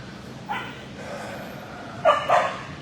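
Dogs barking inside animal shelter kennels, a few sharp barks and yips, one early and a quick pair later, moderately close over a hollow room murmur.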